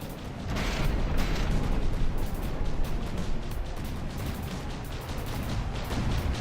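Explosive missiles detonating in the naval combat game From The Depths, with a dense rumbling barrage of blasts and bursts that swells and stays loud throughout, without talk.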